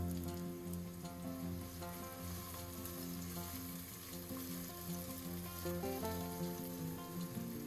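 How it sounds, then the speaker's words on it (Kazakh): Onions sizzle steadily in hot vegetable oil in a pot, a continuous crackling fry heard throughout, with soft tonal sounds running underneath. "Сосын қызған соң пиязымызды саламыз."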